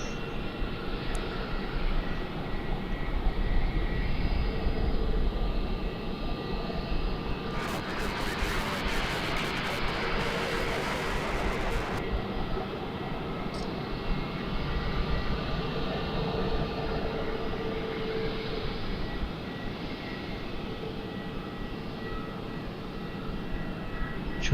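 Aircraft at Melbourne Airport rumble steadily in the distance, a low broad roar that swells and fades across the span, with a brief hissy burst midway and no clear talk.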